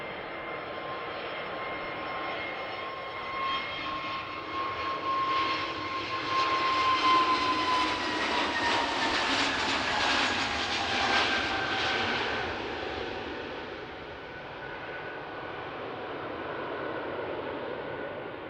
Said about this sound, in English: There goes the EasyJet A320neo.